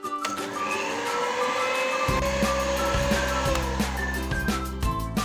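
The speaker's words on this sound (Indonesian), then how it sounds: "Lalu kita mixer sebentar aja sampai tercampur." An electric hand mixer beats pukis pandan batter with condensed milk, a steady close motor whine joined by a deeper churning hum partway through, continuous and fairly loud.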